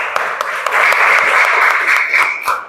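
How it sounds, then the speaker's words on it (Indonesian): Loud applause from a group in a classroom or teaching session, starting with a few scattered claps and swelling into dense, sustained clapping that tapers near the end. "Tepuk tangan dulu."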